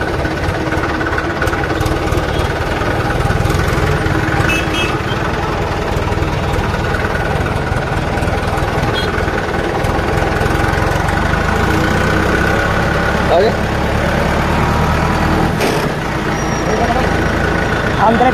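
A tractor engine runs steadily at a low idle-like rumble on a farm, heading out for threshing grain, continuous and close throughout with a faint knocking texture and some talk over it.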